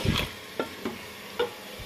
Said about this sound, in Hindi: गोश्त का कलर चेंज होने तक हम इसको फ्राई करेंगे